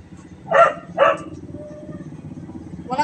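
A dog barks twice in quick succession, loud and close, then gives a third bark just as the clip ends, over a low background murmur.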